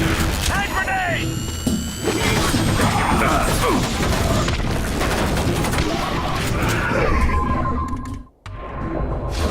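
Hand grenade blast and gunfire in a video game battle: continuous loud clatter of shots and crashing impacts with metallic mechanisms, under shouted voices, briefly dropping out near the end.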